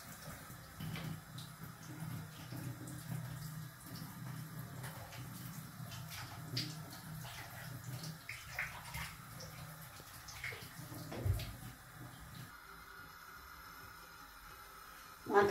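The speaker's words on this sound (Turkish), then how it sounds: "Mantarları yıkadım." Tap water runs steadily over mushrooms being washed in a kitchen sink, a close continuous splashing with occasional clunks and shifts in flow.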